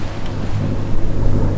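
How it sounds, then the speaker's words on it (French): Sailboat engine running at sea on a flat, windless stretch in the Caribbean, a close, loud low rumble with steady droning hum, mixed with wind buffeting and water noise. "On a rallumé le moteur."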